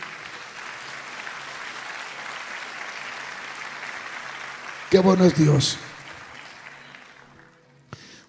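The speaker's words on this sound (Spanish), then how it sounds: "Denle un aplauso al Señor." A church congregation applauds in a broad, even rush of clapping that fades out, while a voice briefly calls out over it partway through.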